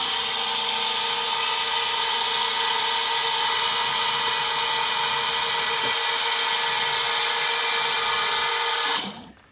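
A power drill drives a hole saw through material to make a pipe passage for a yard drainage setup, a loud, steady whining grind that runs continuously up close, then stops abruptly near the end.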